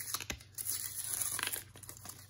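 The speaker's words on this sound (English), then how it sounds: "Let's see if I can tear this card open a little bit better than that." A Magic: The Gathering Black Lotus card is torn open by hand in short close crinkling, ripping bursts, a few sharp tears between quieter rustles.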